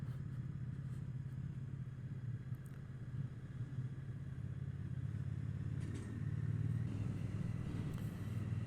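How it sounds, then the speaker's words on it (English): A Triumph Bonneville T120 motorcycle riding on a road, its engine a steady low rumble that stays faint and unbroken, with wind and a slight rise in drone near the end. "Now the Triumph Bonneville T120, it's got so much torque low down in the rev range"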